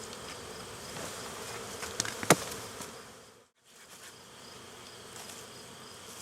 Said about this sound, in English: this is a nice strong hive